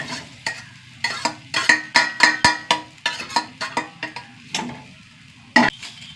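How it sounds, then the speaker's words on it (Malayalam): A small piece of coconut frying in a pan with dried red chillies, a spatula scraping in quick rhythmic strokes over a soft, continuous sizzle, close and clear. "ഇതിലേക്ക് ചെറിയൊരു മുറി തേങ്ങ ഇട്ട് കൊടുക്കട്ടെ."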